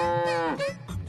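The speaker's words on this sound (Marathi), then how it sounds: "आता म्हैस पण हो म्हणाली" A water buffalo gives one drawn-out, throaty moo that rises and then falls. It is loud and close, with a short break near the end before it fades.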